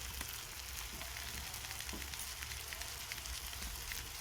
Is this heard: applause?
no